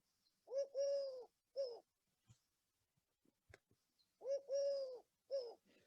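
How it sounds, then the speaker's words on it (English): A collared dove on farmland gives its three-note cooing call, heard twice as clear rhythmic phrases separated by a quiet gap with a few faint clicks, no other voices. "So listen out also for the call of the collared dove."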